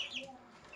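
Buff Orpington chicks hatched at home give a brief burst of soft, high peeping, faint and close, with a couple of quick chirps and no talking.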